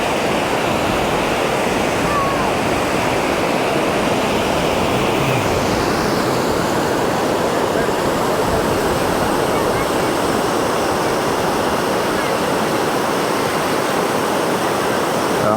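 Atlantic Ocean waves wash onto a beach at Playa del Inglés, Gran Canaria, a loud, steady broadband surf roar with no clear breaks, filling the whole stretch alongside faint voices.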